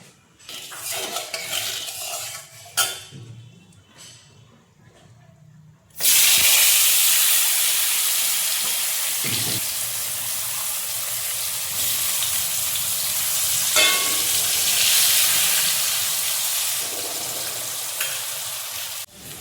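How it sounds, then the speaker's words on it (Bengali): Potato slices hiss and sizzle loudly in a pan of hot oil, a sudden steady frying roar that starts after a few quiet seconds of faint kitchen clatter and keeps going, with occasional crackles and utensil touches. "চলো আলুটা ভেজে নিই।"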